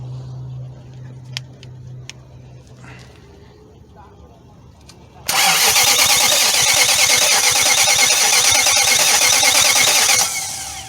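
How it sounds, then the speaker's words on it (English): A starter motor whirs briefly after quiet, then a Nissan Titan truck engine cranks and turns over loudly and steadily for about five seconds before cutting off. "this starter seems very strong. It's turning over the engine with no problem"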